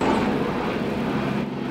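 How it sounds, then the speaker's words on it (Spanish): A cartoon firefighting helicopter that carries water flies overhead, heard as a steady whooshing, rotor-like drone with a low rumble, no voices over it. "¿Eso es un helicóptero, no?"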